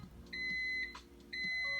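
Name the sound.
microwave oven beeping when cooking is done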